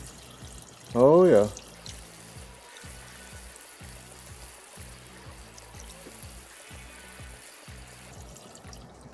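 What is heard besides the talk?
coolant pouring into engine cooling system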